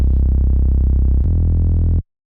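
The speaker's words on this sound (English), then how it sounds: "For the bass, I loaded up this preset called Bass Warm." A warm, sustained synth bass from a preset called Bass Warm, for an Afro House track, plays one low note, then steps to a second note partway through, loud and full, before cutting off abruptly.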